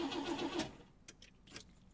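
A brief video-game car engine crank in Lorelei and the Laser Eyes sputters at first, then trails off into faint clicks and rattles without catching; quiet and close, no talking.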